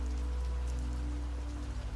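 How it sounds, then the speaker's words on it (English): Gentle, steady rain patters on old cottage window glass, a continuous soft wash of drops with a low hum underneath, unbroken and alone without voices. "the sound of the rain, steady now, gentle now, falling and falling on the old glass"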